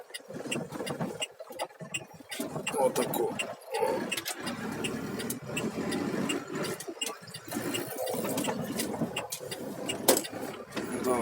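A car passes on a road on the route between Mykolaiv and Odesa, heard from inside another vehicle as a broad swell of engine and tire noise over steady road rumble.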